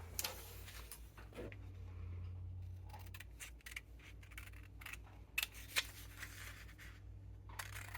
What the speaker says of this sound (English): now we're going to go ahead and cut that out.